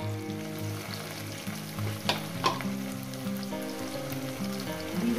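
Spice-paste water hits fried vegetables in a hot pan, a close bubbling sizzle with stirring scrapes and a couple of sharp splashes, while music plays underneath.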